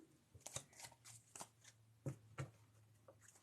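A deck of tarot cards is shuffled by hand during a live reading, with quiet, close riffling and soft slaps in irregular bursts.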